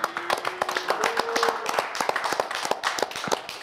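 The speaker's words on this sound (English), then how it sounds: "Clap it up." A small group clapping in a studio podcast setting, a quick, loose run of hand claps, close and fairly loud, with faint voices and a brief whoop underneath.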